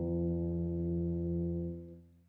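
One open tuba note, F played with no valves pressed, holds steady and rich for over two seconds before tapering away gently at the end.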